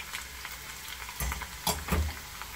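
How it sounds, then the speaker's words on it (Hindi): Sliced garlic frying in hot oil in a pan, a soft steady sizzle with a few louder scraping stirs, close and with no voices. "अब ये लहसुन को फ्राई कर रही हूँ मैं"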